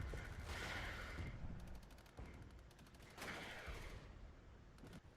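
Heavy artillery fire in the tactical strategy game Regiments: a continuous barrage of distant booms and crackling bursts, with rapid rattling volleys layered over a dense, steady rumble.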